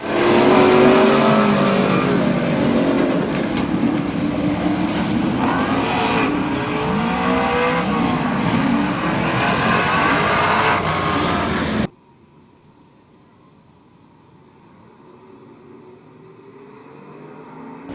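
Race cars roar loudly at Midvale Speedway, engines revving and surging together for about twelve seconds before cutting to a much quieter distant engine drone.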